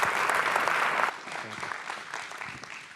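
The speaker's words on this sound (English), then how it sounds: "An applause for her," Indoor audience at a talk claps in a dense, steady burst that drops off sharply after about a second, then thinner scattered clapping continues to the end.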